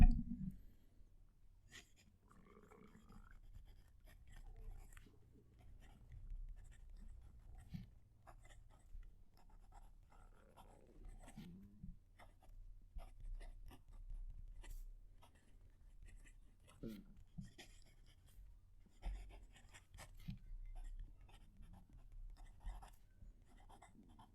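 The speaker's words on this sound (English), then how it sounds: "I'll move the mic down to the paper so you can hear the pen write" Quiet scratching of a fountain pen nib moving across paper, close and intimate, with soft irregular strokes and small taps over a faint low hum.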